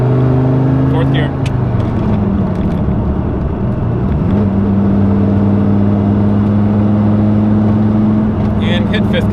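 A Dodge Viper with a manual transmission accelerating in fourth gear, its engine a loud, steady drone that rises in pitch and holds, heard from inside the car with a person talking over it.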